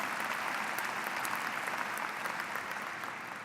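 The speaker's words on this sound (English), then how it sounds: "I would join you in that applause" A commencement ceremony crowd in a large venue applauds, a broad, even wash of many hands clapping that holds steady and then slowly fades.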